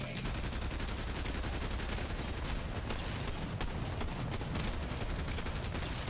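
Continuous dense video-game gunfire as players shoot down NPCs, a steady loud rattle of rapid shots filling the whole stretch without pause.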